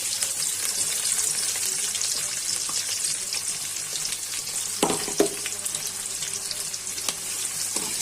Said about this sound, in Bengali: আমি পেঁয়াজ কুচিগুলা দিয়ে দিচ্ছি। পেঁয়াজটা ভেজে নিই।